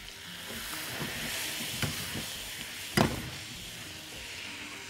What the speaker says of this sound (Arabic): هنحطها على الزبده كده وهي سخنه.